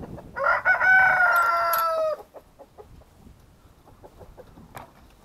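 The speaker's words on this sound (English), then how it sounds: "That is a cross between a golden duckwing and a Kubalaya Cuban game pal, and just a really pretty rooster." A rooster, a cross between a golden duckwing and a Cuban game breed, crows once loudly and close for about two seconds, followed by quiet clucks and small farmyard sounds.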